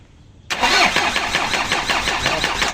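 An Isuzu 4HF1 diesel engine cranks but does not start, a loud continuous churning starter rhythm beginning abruptly after a short quiet moment and running steadily to the end.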